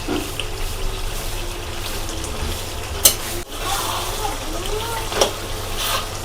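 Mutton being stir-fried in a pan for kasha, a loud, steady sizzle with scraping and stirring clatter from a utensil, including a sharp knock midway, heard up close throughout.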